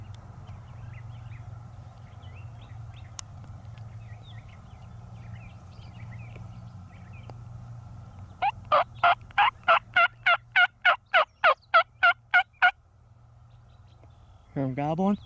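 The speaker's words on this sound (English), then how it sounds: "Hear him gobbling?" Wild turkey gobbling during a spring hunt in western New York: a low steady hum first, then a rapid run of about a dozen sharp, loud gobble pulses, followed by another burst at the end.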